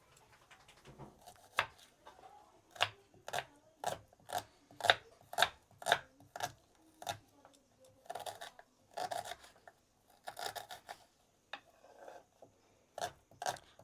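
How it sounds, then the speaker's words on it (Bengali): Four large onions are chopped with a knife on a board in a home kitchen, making a steady series of distinct crisp cuts, each one sharp and separate, quiet and close by. "তো চলো প্রথমে পেঁয়াজটা কেটে নিই।"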